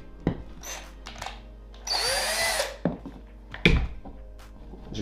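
Power drill driving screws while assembling the differential of an Arrma 1/5-scale RC car, heard as short close bursts of whirring with a longer run of drilling in the middle, plus small clicks and thunks of parts being handled.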